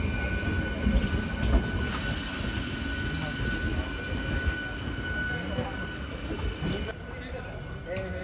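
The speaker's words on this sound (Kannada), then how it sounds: "ಬಂದ ಟ್ರೈನ್ ಕರೆಕ್ಟ್ ನಿಂತನೂ ಇಲ್ಲ ನೋಡ್ರಿ." Rumbling MEMU train rolling into a station with a continuous metallic hum and faint wheel squeal; people talk faintly nearby.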